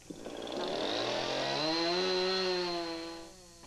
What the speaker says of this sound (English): Lissi roughs out the shape of the bowl with her chainsaw